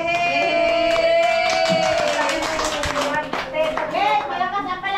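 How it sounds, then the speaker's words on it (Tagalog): Loud hand clapping in a rapid, irregular burst, mixed with voices and other sounds during a family Christmas gathering and high school alumni reunion in Surigao. "Malakas na palakpak ko, men."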